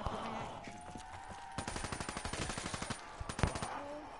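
A rapid string of automatic gunshots in a zombie game, an evenly spaced burst of sharp cracks lasting a couple of seconds, followed by a few separate heavier shots, fairly close against quiet game ambience.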